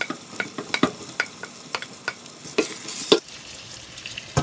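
Bell pepper and vegetables sizzle in a pan while being stirred, a soft bed of frying hiss broken by frequent sharp scrapes and clicks of the utensil at an uneven rhythm, close up.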